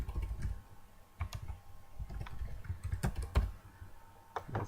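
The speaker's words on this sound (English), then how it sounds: "You can type any name." Computer keyboard typing in irregular bursts of light clicks and key taps, close but fairly quiet, with no voices.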